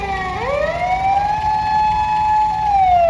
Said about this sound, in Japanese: 救急車が今 出発しているところです。